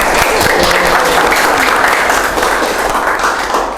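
Audience applause at a school talk show about extracurricular activities, a dense, steady burst of many hands clapping at close range that fills the whole moment without a break.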